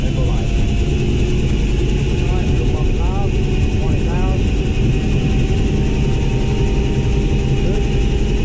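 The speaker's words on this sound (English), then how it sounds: "It's been a while since I've flown in a helicopter" A Eurocopter EC120 helicopter's engine runs at a loud, constant drone with steady rotor throb heard from the cabin during a ride, and short bits of voice chirp over it.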